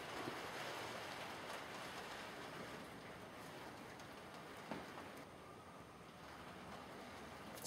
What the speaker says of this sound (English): it's raining, and this is what we have to deal with